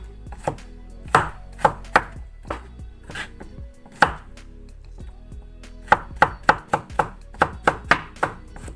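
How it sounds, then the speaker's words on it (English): A knife chops vegetables and fresh garlic into small pieces on a cutting board, giving close, crisp irregular knocks that quicken into a fast run of taps near the end, with no talking. "this all cut in small pieces like this, and then the garlic, small pieces."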